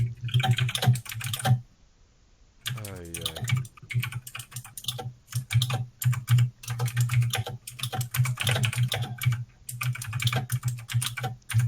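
Rapid, busy typing on a computer keyboard fills most of the stretch, dense clusters of keystrokes close to the mic with a brief gap near the start, and a short spoken exclamation early on.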